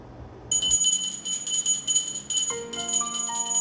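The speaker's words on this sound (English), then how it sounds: "Rattling bells to call on the deities and drive away evil spirits." Small ritual bells rattled and jingled in a home ceremony to call on the deities and drive away evil spirits, a bright continuous tinkling that starts after a brief pause, with a second, ringing bell tone joining near the end.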